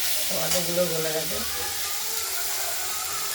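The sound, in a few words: turmeric powder sizzling in frying spice mixture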